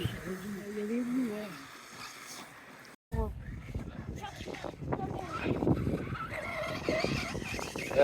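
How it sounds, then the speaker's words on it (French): A 1/6-scale brushless FG Marder 4x2 RC truck drives outdoors, its rushing motor and tyre noise rising after a brief pause, with a voice talking early on and wind noise throughout. "on va le faire rouler"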